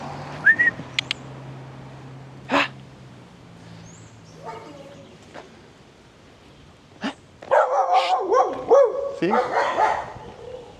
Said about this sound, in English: It's a typical example of a dog here. Street dog that you're gonna find in the street.